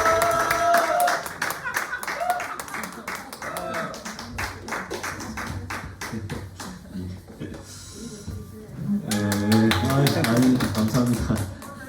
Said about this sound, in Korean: 박수로 환영하시겠습니다